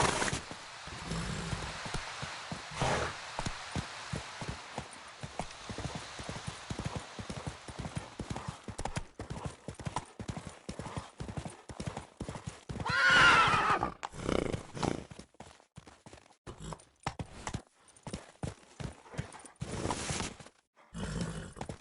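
Roach the horse in Witcher 3 gallops in a fast, even hoofbeat rhythm that carries through the whole stretch, with a loud whinny rising near the middle and game ambience underneath.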